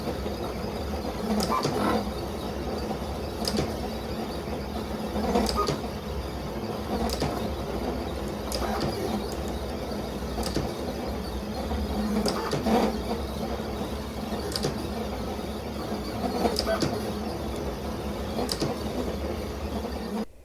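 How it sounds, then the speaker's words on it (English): A Silhouette Cameo 5 cutting machine working through cardstock, a steady close mechanical hum with a carriage whirring back and forth and regular small clicks and ticks throughout, with no talking. "I'll just speed up the footage and take away the audio whilst the machine is finishing up the cut for this project."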